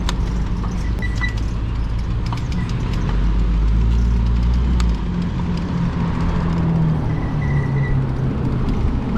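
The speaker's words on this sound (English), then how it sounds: "These guys are revving their muscle cars." Muscle cars revving their engines on a street near a school, heard from the road as a deep, continuous low rumble that swells and eases, fairly close and with no talking.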